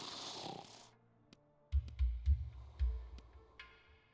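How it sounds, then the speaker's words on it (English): A stranger bundled on a fur blanket snores in the video game Insurmountable. A short hiss is followed by a few low, rumbling snore pulses, quiet and close, with no talking. "Oh, there's somebody snoring here."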